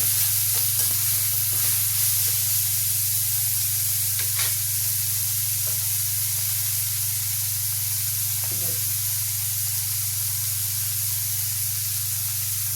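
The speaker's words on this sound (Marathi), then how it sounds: "यामध्ये आता मेथीची भाजी आणि टमाटे टाकले आहे, ते चांगले परतून घ्यायचे।" Fenugreek leaves and tomatoes sautéing in a hot pan, a loud continuous hissing sizzle with occasional soft stirring scrapes, close and steady throughout.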